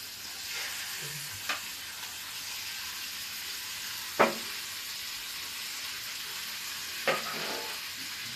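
Mutton frying in a pan, a continuous sizzle running throughout with a few brief scraping stirs of a utensil at intervals, close by and moderately loud.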